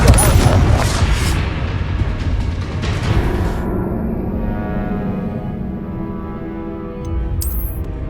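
A Confringo blast spell explodes in a Hogwarts Legacy boss battle, one loud booming burst up front that rumbles and fades over several seconds amid game effects.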